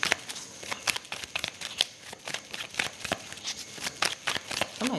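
A deck of tarot cards is shuffled by hand over and over, giving quick papery riffles and flicks in an uneven, busy rhythm, close and clear with no talking.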